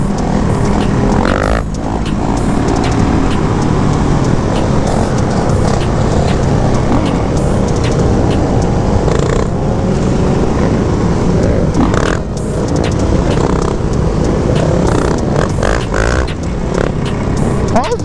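A KTM supermoto with a hydraulic clutch revs and drones loudly nearby as the rider slips the clutch, its engine note rising and falling continuously at a street supermoto event, with crowd noise and occasional voices mixed in.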